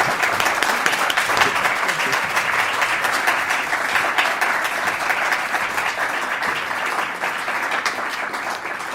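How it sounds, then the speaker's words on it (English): An audience at a panel discussion in Cleveland claps steadily for the panelists, a dense, even round of applause lasting several seconds. "How about a round of applause for our panelists?"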